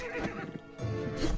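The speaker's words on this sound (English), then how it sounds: "The sound horse makes." Horse whinny from the video game Dark Deity, a short loud neigh rising and falling within about a second, with some hoof-like clopping beside it.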